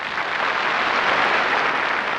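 Audience applause at a live Cantonese opera recital, a dense steady patter of clapping from a crowd filling the whole stretch at even loudness with no voices over it.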